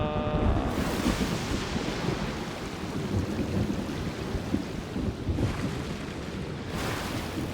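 A thunder and lightning storm rages in Genshin Impact on an Inazuma island, with a dense, continuous rumble and roar and sharper cracks near the start and later on. Loud and enveloping, with no talking.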